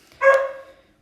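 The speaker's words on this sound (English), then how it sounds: "I apologize for my dogs." A single short bark from a pet dog indoors, loud and close, rising quickly and fading within half a second, with silence around it.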